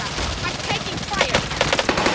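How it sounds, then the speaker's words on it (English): Close, dense gunfire in Call of Duty Warzone, with rapid shots crackling continuously for about two seconds over a busy game soundscape. "I'm taking fire"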